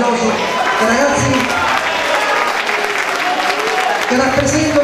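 An audience at a school conference applauds for the students, with steady clapping throughout and a voice speaking over it.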